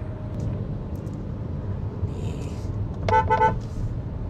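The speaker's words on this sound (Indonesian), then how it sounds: "Ini klaksonnya sudah ini masih original atau udah di-upgrade?" Horn of a 2025 Hyundai Creta N Line, stock original, sounding in a couple of short honks heard from inside the car over a low steady engine rumble.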